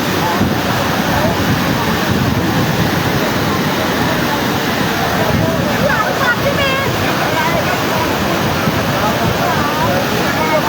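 Floodwater rushing in Habiganj, swollen and eroding road embankments, makes a loud, unbroken roar of churning water that fills the whole stretch, close and steady without pause.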